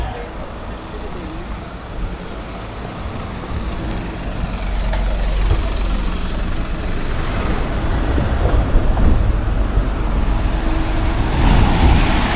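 Street traffic passing near a Renaissance square and Santa Maria church, cars, trucks and buses rumbling by at moderate distance, a steady roadway wash that swells louder toward the end with faint talk underneath.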